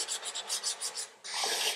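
Sandpaper rubs over a milk-painted wood piece around its edges, a rhythmic series of short close scratchy strokes followed by one longer continuous rasp.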